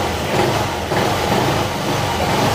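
A Honda ADV160 scooter engine runs loud and steady close by, with a brief dip in level before holding its rough, even drone.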